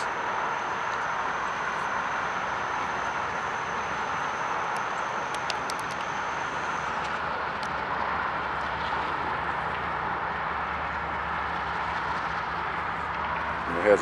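A CSX auto train with a GEVO locomotive rolls past in Birmingham, Alabama, a steady broadband rumble of wheels and cars that holds evenly throughout, with brief metallic squeal-like tones partway through and a sharper burst at the very end.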